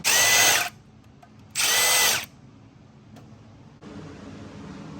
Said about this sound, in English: Now I'm gonna take the valve cover off and replace the valve cover gasket